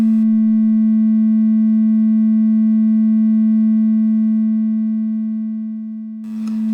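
Steady pure sine tone from a synthesizer oscillator, a single sustained pitch held loud and alone for several seconds before a brief burst of noise at the end.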